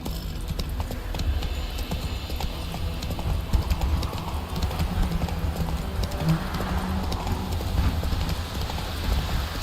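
A horse gallops in the Witcher 3 video game, with steady rhythmic hoofbeats pounding throughout over a low rumbling bed, fairly loud and close.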